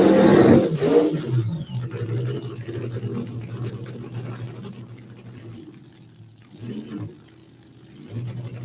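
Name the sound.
Street Fuel Coupe drag racing car doing a short burnout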